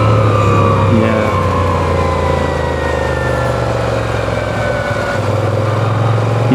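A Moto Guzzi V7 Sport motorcycle engine rumbles steadily and loudly up close, a low throbbing drone that barely varies in level from start to end.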